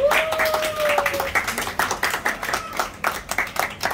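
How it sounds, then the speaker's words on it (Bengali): A crowd claps at a 5 million celebration, a quick dense run of hand claps throughout, with a voice talking over the applause. "সবাই করতালি প্লিজ"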